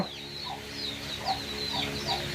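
Chickens clucking in short repeated bursts with a few higher squawks, fairly close, at a rural home in the Sundarbans, over a steady background hum.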